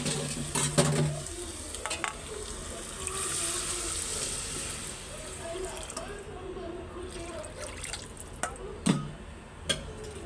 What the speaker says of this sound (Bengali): এই যে খুব সুন্দর করে কষায় ফেলছি তেলের উপরে ফেলছি